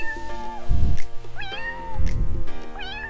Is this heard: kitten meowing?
yes